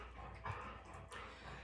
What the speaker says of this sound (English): Butcher, what are you barking at? There's nobody there.